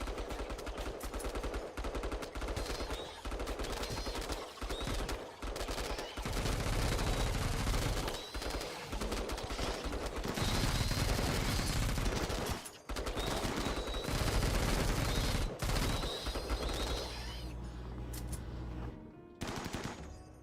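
Sustained, loud automatic gunfire of armor-piercing rounds in a video game, dense rattling bursts with brief pauses, close and steady for about twenty seconds.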